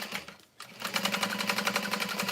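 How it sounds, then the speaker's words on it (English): Sewing machine backstitching over tote bag strap connectors: a short pause, then a fast, even run of mechanical stitching clatter, close and clear, with no talking. "I like to backstitch over those strap connectors just a little bit for security"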